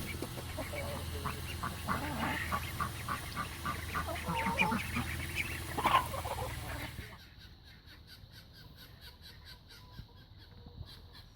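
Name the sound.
Pekin ducks quacking, 11 weeks old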